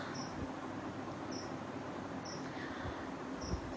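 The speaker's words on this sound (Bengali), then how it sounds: "ঝিঝি পোকা ডাকছে।" Crickets chirp in a quiet evening setting, their short high trills repeating about once a second over a low steady background hum.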